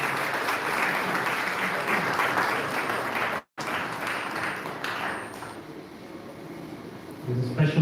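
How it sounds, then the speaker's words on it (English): A crowd at a security and safety team launch gives sustained applause that cuts out for a moment, then carries on and fades toward the end, with some voices mixed in. "Please give them a big round of applause."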